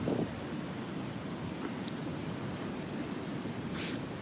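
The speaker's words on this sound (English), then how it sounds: "But you see how windy it is." Steady wind rushes and buffets against the microphone on a beach in Phuket throughout, a constant low roar with no voices.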